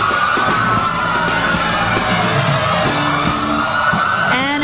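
A wailing police siren rises over a loud, dense crowd roar at the 2005 Macy's Thanksgiving Day Parade, with yells and engine rumble mixed into the noisy street scene.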